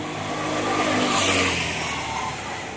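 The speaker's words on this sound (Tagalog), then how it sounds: "Ayan o, matraffic yung sasakyan" A car moves through Sunday traffic on a street in Taiwan, its broad road roar swelling as it passes close by and then easing off, with steady traffic noise beneath.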